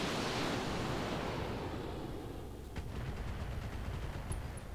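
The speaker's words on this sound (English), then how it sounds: "Just fire the missiles." A mech fires a volley of missiles in the RogueTech video game, a broad roaring whoosh that swells loudly then eases into a steady rushing rumble, with no talking.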